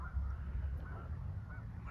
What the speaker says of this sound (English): Can you hear the geese? I can't see them